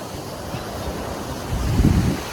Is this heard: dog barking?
no